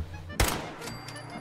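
A single sharp gunshot from a headshot in Fallout 4, one loud abrupt crack that fades into a brief tail over quiet game ambience.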